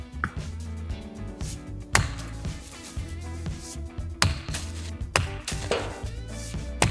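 Someone chops outdoors, with sharp, irregular impacts landing a second or more apart over a steady, humming background that has a tonal, music-like texture.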